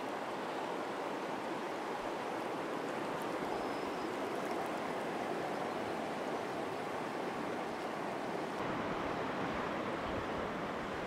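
The Snake River flows steadily along a roadside, a constant broadband rush of water that stays even and unbroken throughout with no voices.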